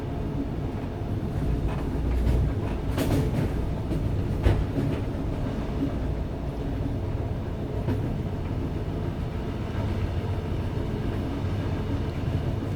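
Passenger train riding on the rail line toward Koper, Slovenia, heard from inside as a steady loud rumble with rail clatter and a few sharp knocks, no talking.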